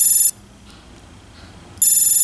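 Garmin Forerunner 965 sports watch alarm ringing: loud, close, rapid high-pitched electronic beeping that stops, falls silent for about a second and a half, then resumes.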